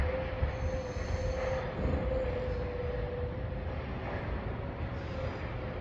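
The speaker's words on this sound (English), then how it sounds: "For the 1419 Northern train service from Sheffield to Leeds." A Northern passenger train, the Sheffield to Leeds service, rolls past Holmes Junction level crossing with a steady broadband rumble of wheels on rail, a sustained tonal hum throughout, fairly close and continuous with no talk.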